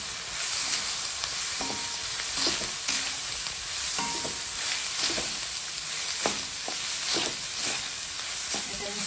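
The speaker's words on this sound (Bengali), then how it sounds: "এটাকে মিশিয়ে নিয়ে এবার আমি এর মধ্যে ভাতটা মেশাবো।" Rice is mixed into fried vegetables in a sizzling pan, with repeated scraping stirring strokes over a continuous frying hiss for several seconds, nearby and fairly loud, with no talking.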